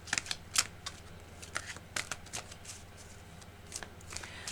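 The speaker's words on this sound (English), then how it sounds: "I'm just going to shuffle the cards now" Tarot cards riffle and snap in quick shuffling bursts, several crisp flurries spread unevenly over a few seconds, close and fairly quiet with no voices.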